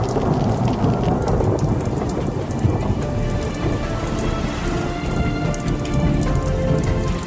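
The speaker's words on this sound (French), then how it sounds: "Quand on attend le soleil, c'est la pluie qui vient." Steady rain pours down with a dense, even hiss of drops on surfaces, and a thunderstorm rumbles low underneath throughout, with no one speaking.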